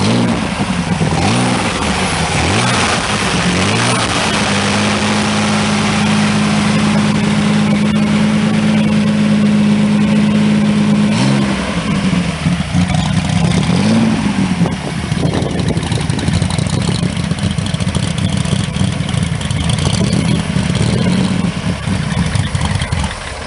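A propane-fueled turbocharged Corvair engine from a Bonneville record car runs loud and close, a steady heavy drone with several rising revs that swoop up and fall back, continuous throughout with no talking.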